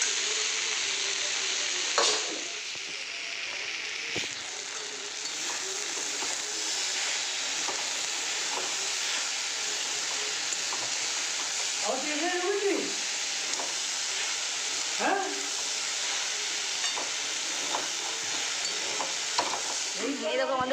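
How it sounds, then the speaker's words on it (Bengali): Okra, pointed gourd, potato and onion fry together in a home kitchen, giving a continuous hissing sizzle with occasional scraping stirs and clinks against the pan, heard close up. "এখানে আবার রান্না বসিয়েছি সকালে, হচ্ছে ঢেঁড়স, তারপরে পটল, আলু, পেঁয়াজ ভাজা"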